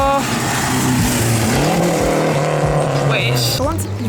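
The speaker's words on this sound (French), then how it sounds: "Il est timide le bruit de la Porsche" A Porsche rally car at the Rallye du Quercy passes by, its engine a fairly muted, steady drone that rises and shifts in pitch as it goes past, with crowd voices over it.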